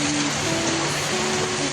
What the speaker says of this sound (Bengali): এত পরিমাণে বৃষ্টি হচ্ছে, কথা বলতে পারছি না